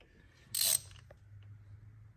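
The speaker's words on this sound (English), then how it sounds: "what I'm going to do next is put a spark plug socket on" A ratchet fitted with a 5/8 spark plug socket works a spark plug on a 2014 Dodge Journey 3.6 V6, making one short, sharp burst of clicking against a quiet background.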